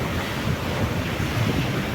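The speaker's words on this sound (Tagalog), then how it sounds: "Napakalakas ng alon." Strong ocean waves surge at a beach beside a hotel on a windy morning, a dense, continuous roar of surf mixed with wind buffeting the microphone, loud and unbroken.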